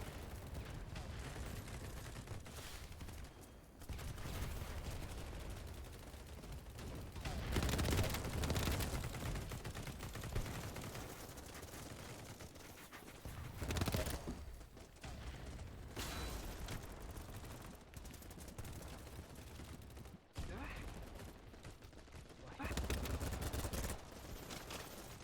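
Rapid bursts of gunfire from the online shooter game BattleBit, with automatic fire and heavier blasts in dense, overlapping waves that rise and fall for a long stretch amid loud mixed game noise.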